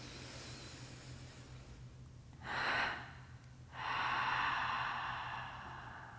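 Two slow, deep breaths stand alone against a quiet room during a guided breathing exercise, each a soft airy rush: a shorter first breath, a pause, then a longer, fuller second one that gradually fades out.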